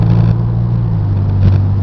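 A white 2005 Ford Mustang convertible drives along, its engine giving a steady, loud mid-pitched hum with a strong low drone throughout, rising slightly near the end.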